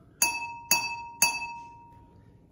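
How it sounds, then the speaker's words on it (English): A water glass partly filled with water is struck three times at an even pace, giving a clear ringing middle-pitched note with a bright attack and a short decaying ring, alone and close. "And the middle one makes the middle note."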